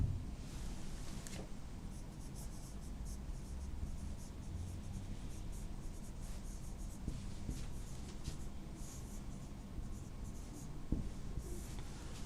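Chalk or marker writing on a board during a chemistry lesson, steady scratching strokes continuing throughout with a faint room hum and no talk.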